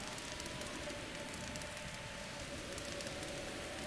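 Rain falling in Zelda: Breath of the Wild, a faint, steady hiss of drops pattering on surfaces with a low hum beneath, continuous and unchanging with no voices.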